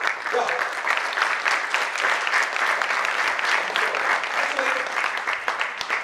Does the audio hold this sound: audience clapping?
yes